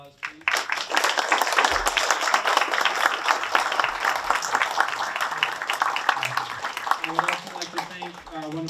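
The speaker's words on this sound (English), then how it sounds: "Can we give them a round of applause?" A panel audience in a studio salon applauds at length, dense clapping sustained for several seconds after a brief start, with a voice breaking in near the end.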